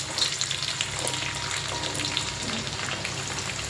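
Kidney beans (rajma) lightly frying in a pan with oil, a steady close crackling sizzle with soft stirring scrapes, no voices.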